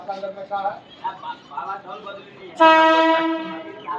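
People talk at Naihati railway station, then a loud train horn blares and holds for over a second, sounding close by.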